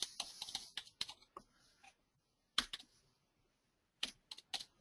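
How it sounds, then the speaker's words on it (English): Bursts of rapid keyboard typing, clustered clicks separated by quiet pauses, close and crisp with no voices. "I'm hitting all kinds of crazy buttons on my keyboard."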